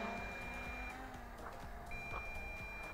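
The remote of an MJX Bugs 3 brushless quadcopter gives a steady high-pitched low-battery beep, faint and continuous, over outdoor motor whine and background noise.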